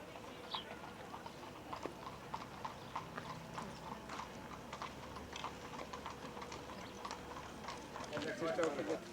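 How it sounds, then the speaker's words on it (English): Horses' hooves clip-clopping steadily outdoors, a continuous patter of light hoof strikes at moderate distance with people talking over it. "See the horses."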